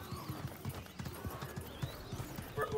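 Horse mount galloping in the video game Paladins, a steady rhythmic clip-clop of hooves running throughout, fairly close and continuous with other game sounds in the background.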